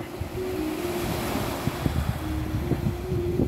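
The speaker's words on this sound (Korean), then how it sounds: "방파제도 이렇게 파도가 일렁이고 있고요" Sea waves wash against a breakwater on the west coast at sunset, a steady broadband surf wash with gusting wind noise and a few louder splashes, continuous and fairly close.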